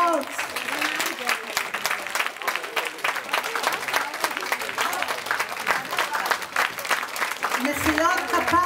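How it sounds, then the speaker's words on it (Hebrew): An audience claps loudly and steadily after a dance presentation by caregivers, with dense, sustained applause and some crowd noise. A voice speaks over the clapping toward the end. "מגיעות לכם מחיאות כפיים, מחיאות כפיים סוערות"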